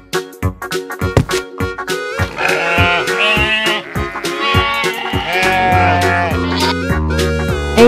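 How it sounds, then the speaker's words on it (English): Sheep bleats sound among bright, rhythmic background music and plucked notes, the wavering animal call rising over the steady beat through the middle of the clip. "Sheep."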